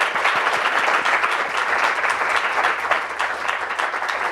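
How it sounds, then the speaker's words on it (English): An audience applauds panel speakers at a discussion on rethinking learning spaces, with steady, dense clapping that holds at an even level from start to finish. "let's give a big round of applause for our speakers"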